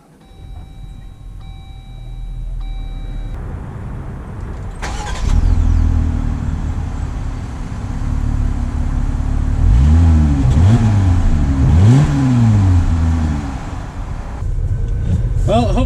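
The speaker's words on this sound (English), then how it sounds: "let's take this out to see how the Gladiator drives and get a real drive with it" A 2020 Jeep Gladiator Rubicon engine turns over and settles into a loud, close idle, then revs up and pulls away with rising engine tones, steady drive noise continuing to the end.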